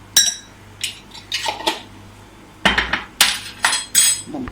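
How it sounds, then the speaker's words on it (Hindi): Chillies, green coriander and mint being pounded for chutney in a home kitchen, heard as irregular sharp knocks and clinks of a pestle striking a hard vessel, close and with no talking. "ये वाला इसको मैं कूट लूँगी अच्छी तरह, इसकी चटनी बना लूँगी"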